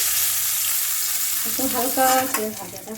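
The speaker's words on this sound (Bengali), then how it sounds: "এভাবে সব কটা মাছ ভেজে নেবে হালকা হালকা করে" Sea kokila fish fries lightly in hot oil with a loud, continuous sizzle, joined near the end by brief clatter and bubbling as pieces are moved.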